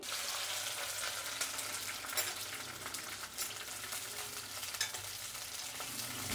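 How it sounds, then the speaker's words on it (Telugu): Okra frying in a generous amount of hot oil, a steady close sizzle with crackling bursts running throughout and no talk. "కాబట్టి ఫస్ట్ బెండకాయలు వేయించుకుందాం."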